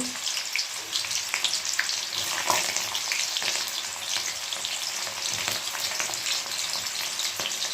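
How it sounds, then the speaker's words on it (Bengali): Chopped onion dropped into hot oil tempered with cardamom, giving a continuous close sizzle and crackle with faint stirring scrapes, steady and moderately loud, no voices. "এলাচ ফোড়ন দিয়ে তার এর মধ্যে দিয়ে দেব পেঁয়াজ কুচোনো একটা পেঁয়াজ কুচি দেব"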